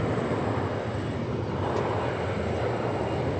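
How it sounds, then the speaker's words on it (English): Steady, continuous jet roar of an Embraer E-Jet airliner at DFW Airport, a broad moderately distant engine drone holding constant throughout with no talk. "And that roar belongs to this E-Jet."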